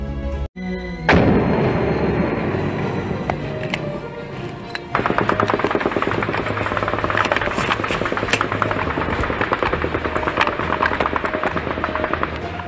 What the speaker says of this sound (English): Bullets ricochet around an army detachment outside of Davao City.